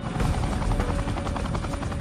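Military helicopter hovering close overhead during a rope insertion amid swirling dirt, a loud, steady rotor roar with rapid thudding blade pulses throughout, no voices.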